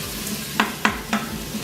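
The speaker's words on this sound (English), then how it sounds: "So I'm gonna keep stirring it, okay, until the onion turns a little translucent." Onions sizzling in a pan for beef stew as a spoon stirs them, a steady frying hiss broken by three sharp scrapes close by.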